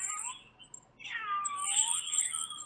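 Cat meowing in the video game RuneScape, a couple of drawn-out, wavering meows layered with a high whining tone, fairly close and clear against a quiet background, with no talk over them.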